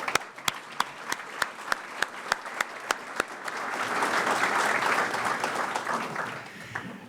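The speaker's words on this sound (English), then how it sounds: "Let's give him a round of applause." Audience at a business forecast breakfast, opening with a run of slow, evenly spaced single claps from one person, then swelling into a broad wash of group applause that fades out over several seconds.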